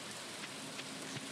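Rain pours during a rainstorm in a farming video game, a dense, even hiss of falling drops with no voices over it.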